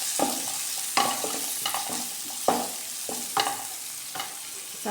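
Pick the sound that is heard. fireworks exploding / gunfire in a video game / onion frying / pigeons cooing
onion frying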